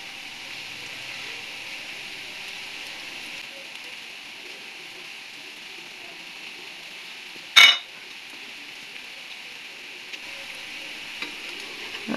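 Bread rolls shallow frying in a little oil, giving a steady hiss and crackle throughout, with one sharp clank of a utensil partway through.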